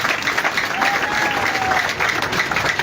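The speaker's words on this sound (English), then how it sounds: "Please clap for yourselves." A large crowd at an outdoor political rally applauds, a dense continuous roar of clapping mixed with crowd noise and a faint whistle, loud and steady throughout.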